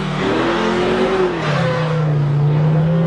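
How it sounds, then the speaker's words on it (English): A car engine revs steadily, its pitch climbing then settling into a sustained high drone, loud and close throughout. "And now a car revving."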